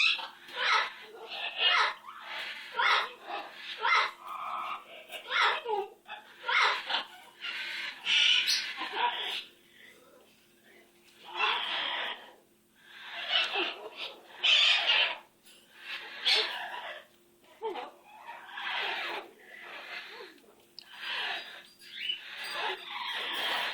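A pet bird gives a long series of harsh, raspy screeching bursts, each lasting about a second with short gaps between them, close and fairly loud, going on for over twenty seconds.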